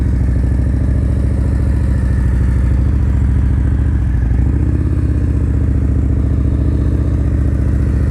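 A motorcycle engine idles and putters at low RPM during slow-speed riding practice, holding a steady, loud, close rumble with a slight dip and rise midway.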